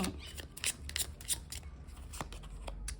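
Tarot cards are shuffled by hand nearby, with quick riffling bursts and soft flicks in an uneven rhythm. The sound is faint and heard alone.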